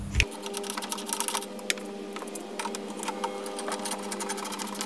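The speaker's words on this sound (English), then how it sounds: "So let's remove those 8mm nuts." A socket wrench loosens the 8mm nuts holding the third brake light on a BMW Z4, giving a fast, steady mechanical ratcheting whir with small clicks, close and continuous.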